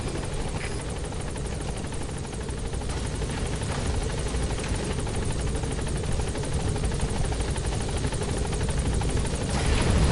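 A helicopter hovers over a landing zone in Metal Gear Solid V, its rotor thumping steadily and loudly throughout with a dense, continuous roar and no speech.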